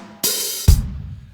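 Drum kit hi-hat opened with a bright sizzling wash, then pedaled shut with a sharp thick chick that fades quickly, close and loud with no voices.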